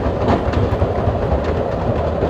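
A passenger train rolls along the rails with a steady, loud rumble and rhythmic clickety-clack of the railroad car wheels, continuous throughout with no voices.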